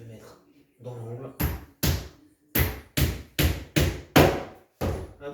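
Nails hammered into a wardrobe column, about eight sharp, loud knocks at a steady, fairly quick rhythm, each ringing briefly, close by, after a short stretch of quiet talk.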